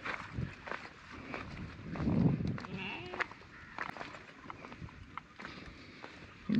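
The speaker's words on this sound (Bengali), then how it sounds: "যে ভেড়ার পাল।" A flock of sheep bleats on open grazing land on Sandwip island where buffalo also graze, scattered overlapping bleats near and far with faint rustling and hoof sounds.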